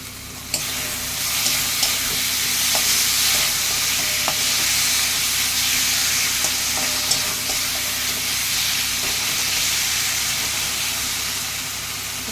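A spice paste with tomato fries in a pan with a loud, steady sizzle, while a utensil scrapes and stirs it with occasional small clicks against the pan, and no one speaks.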